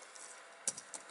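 A computer keyboard gives a few quick, quiet key clicks, three light taps in under a second against a soft background hiss.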